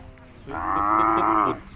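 Thai native cattle at a livestock market, one animal giving a single long, loud moo that lasts about a second, close by over a low murmur of market background.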